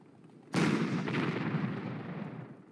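A single loud artillery blast in the Panzer Corps World War II strategy game, a sharp boom at the onset followed by a long rumbling decay that fades over about two seconds.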